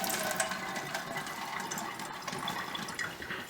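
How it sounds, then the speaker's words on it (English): Wet dyed yarn being twisted and wrung out, giving a faint, continuous trickle and drip of water close by with no talk. "wrap it around there and give it a good twist. Just get out all that extra water"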